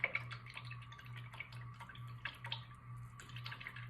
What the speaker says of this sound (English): All right, so I'm rinsing it out really well.